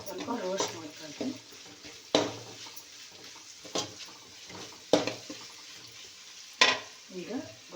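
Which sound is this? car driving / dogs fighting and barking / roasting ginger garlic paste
roasting ginger garlic paste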